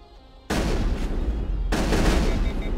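Rapid gunfire from a weapon in the video game Mass Effect, a sudden loud burst of heavy booming shots that runs continuously, briefly dips, then surges again, with no talk over it.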